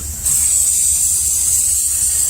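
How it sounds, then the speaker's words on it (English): A steady, continuous hiss of aerosol carburetor cleaner spraying on a Ford 302 engine for a couple of seconds, loud and close, with a low rumble beneath. "Spray her off a little bit more carburetor cleaner."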